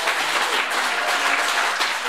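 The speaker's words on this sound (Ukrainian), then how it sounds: "Ваші оплески, будь ласка." A concert audience at a village stage show in Luzhany applauds in a dense, steady wash of clapping that stays loud and even from start to finish.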